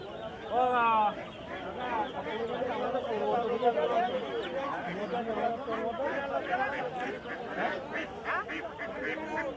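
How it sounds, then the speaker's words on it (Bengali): Ducks and chickens at a busy livestock market quack and squawk near at hand, with a burst of quacking at the start, set against steady crowd chatter and talk. "দেখতে হচ্ছে এখানে বিভিন্ন রকম হাঁস আছে, হাঁস মুরগি বিভিন্ন রকম দাম"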